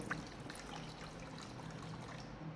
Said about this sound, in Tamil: ஒரு கிளாஸ்க்கு தண்ணி ஊற்றி வச்சு